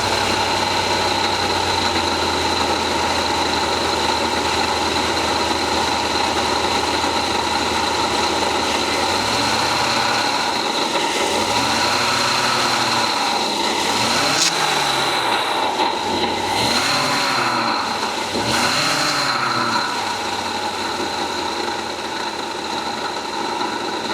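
A 2018 Chevy 6.2L V8 idles steadily and close, with a constant whine and rattling racket from a noisy water pump or belt tensioner. Swooping tones in the middle suggest the engine speed or a microphone moving around the engine bay.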